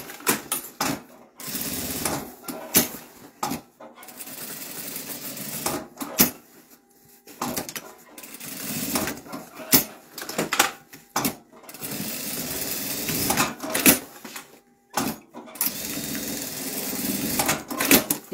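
A sewing machine stitches over a strap in uneven bursts of whirring, pausing between runs, with handling clatter mixed in.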